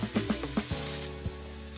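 Potatoes and onions light-frying in a pan give a steady hiss with a few soft stirring taps and clunks near the start, close and alone.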